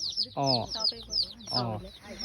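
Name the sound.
chickens clucking at a poultry farm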